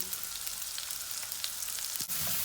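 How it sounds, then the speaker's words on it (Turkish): Chopped carrots and onions fry in sunflower oil for rice pilaf, a close, even sizzle with a brief stir near the end. "Önce havuçlu soğanımızı ilave ediyoruz"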